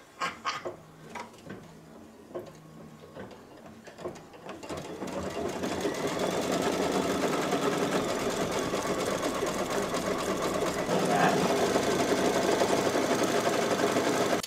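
An embroidery sewing machine starts after a few scattered clicks and settles into fast, continuous stitching, loud and close, holding a steady mechanical whir to the end.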